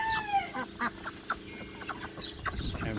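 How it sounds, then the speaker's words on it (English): Naked neck chickens cluck repeatedly in a muddy farmyard after rain, with other poultry calling around them. The clucks come in short bursts, some near and some farther off. "Got some naked neck chickens there."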